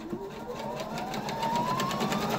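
A sewing machine runs steadily, stitching through quilt layers with batting, a continuous close mechanical whir with a fast, even needle rhythm throughout.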